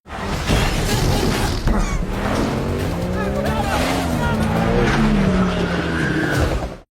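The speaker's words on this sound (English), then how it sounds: "Arsky seizes the chance to leap through a window and hijack a police motorcycle" A movie car chase, with a hijacked police motorcycle racing through city streets, brings loud engine roars, tire skids and crashing impacts, and a narrator talks over the action throughout.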